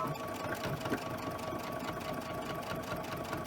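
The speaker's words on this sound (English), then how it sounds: "this is the top stitching" A sewing machine top-stitches the edge of a fabric sleep mask with a soft, steady, continuous whir that holds even throughout at fairly low volume, with no talk.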